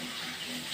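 Water pours into a cooking pot of spiced vegetarian curry, a brief steady rushing splash heard up close with no voices.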